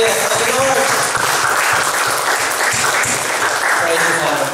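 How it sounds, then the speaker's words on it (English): A church audience claps together in praise during a faith talk, loud, dense applause running steadily for a few seconds with no pause. "Can you give a clap of praise to God?"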